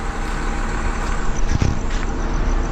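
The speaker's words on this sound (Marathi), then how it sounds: "पूर्ण इथे ट्रॅफिक जाम आहे" Steady rumble of a traffic jam at Kashedi ghat heard from inside a bus, idling cars and trucks droning continuously with a brief louder engine surge near the middle.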